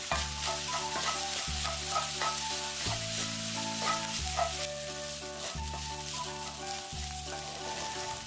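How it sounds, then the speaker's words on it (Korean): Spam is stir-fried with onion and garlic in its own fat, a steady loud sizzle with rhythmic stirring strokes over a low hum, close and continuous. "스팸 기름을 이용해 양파와 마늘을 넣어 볶아줍니다"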